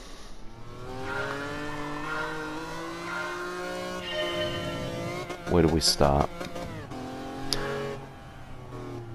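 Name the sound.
race car accelerating in a racing video game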